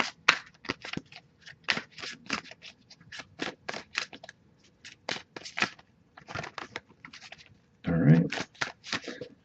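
Crisp riffling bursts of cards being shuffled, repeated in quick runs with brief pauses, close up, ending in a louder cascade.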